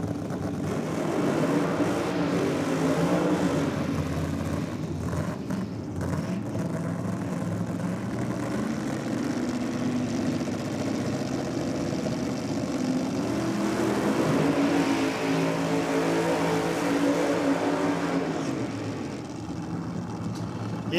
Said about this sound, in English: Charlie Ladani, just a short, sharp burnout out of the VZ Ute